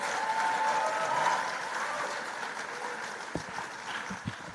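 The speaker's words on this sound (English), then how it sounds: "Let's give them all a big round of applause." Audience applause at a forum event, steady clapping from a crowd that holds for several seconds, with a few sharper close claps near the end.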